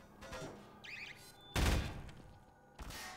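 Turrets fire in a video game as a few sharp, booming gunshot bursts, one loud blast in the middle and lighter shots around it, with brief synthetic effects between.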